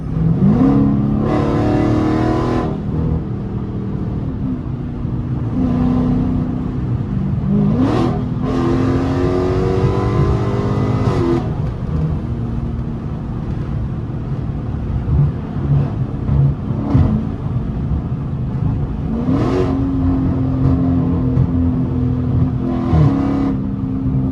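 A Dodge Challenger Scat Pack 392 V8 revs hard while driving through traffic, its loud engine note climbing and falling through repeated throttle blips and upshifts, close and continuous with no talking.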